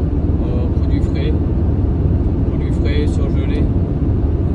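Steady engine rumble and road noise inside the cab of a 26-tonne refrigerated delivery truck on the move, a constant low drone with a few faint higher squeaks and rattles.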